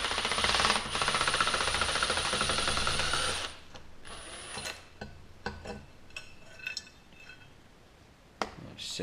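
Ratchet wrench backing a nut off a valve spring compressor tool on a cylinder head, rapid steady clicking for several seconds, then scattered light metallic clinks and taps, close and fairly quiet.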